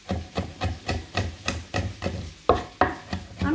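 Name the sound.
crushing and finely chopping garlic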